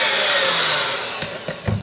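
Electric mixer beating raspberry cheesecake batter in a bowl, a steady whirring drone that tapers off, followed by a few soft knocks and scrapes before it stops.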